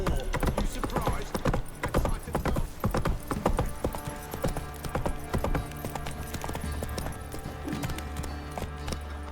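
Hooves clop rapidly as a horse gallops in The Witcher 3, an uneven run of loud thuds that settles into a quieter steady trot with a brief snort.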